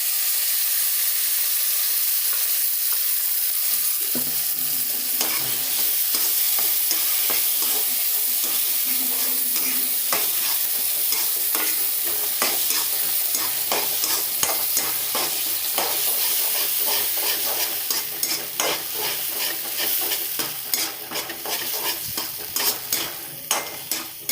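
Tomatoes are added to sautéed onions in a pan for a South Indian fenugreek curry. They sizzle and hiss steadily and loudly, with repeated scraping and clattering stirs that grow busier toward the end.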